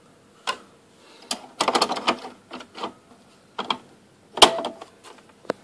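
A printer clicking and clunking while printing a dissertation, with irregular sharp clicks and short bursts of mechanical rattling separated by quiet gaps, one louder snap near the end.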